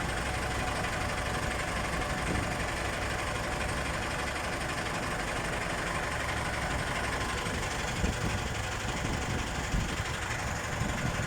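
A tractor engine idles continuously with a dense, rumbling drone that stays steady throughout, moderately loud and close, near a hotel.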